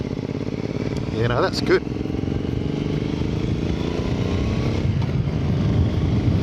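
A Triumph America motorcycle putters along at low speed with the clutch fully out, its steady engine drone close and continuous while someone speaks briefly over it.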